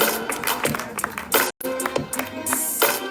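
Audience applause at a public music event, a steady mix of close, irregular claps lasting about three seconds with a momentary gap midway, no voices over it.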